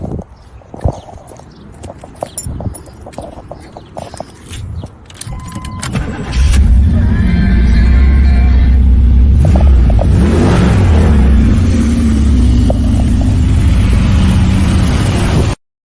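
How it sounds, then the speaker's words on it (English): A classic port fuel injected Camaro muscle car fires up after some handling noises, its engine catching around the six-second mark and then running loud and steady near the microphone for about ten seconds, with revving swells. "Let's fire it up."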